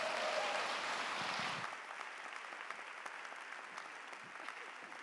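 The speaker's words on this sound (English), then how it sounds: "let's give a nice, warm welcome to Alison Cook." Audience applause welcoming a speaker onto the stage at a gathering, fuller and louder at first, then thinning into scattered fading claps.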